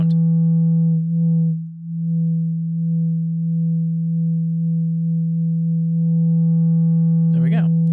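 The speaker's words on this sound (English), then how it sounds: "the low pass is kind of cutting off our lows, which is mostly where our sine wave is" In VCV Rack, a synthesizer sine wave runs through a low pass filter as a steady, loud, low drone that dips briefly as the filter shifts, with a short voice breaking in near the end.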